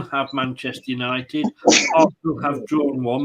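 A single sharp sneeze bursts out partway through steady conversation between presenters on a Premier League preview show, with talking continuing before and after it.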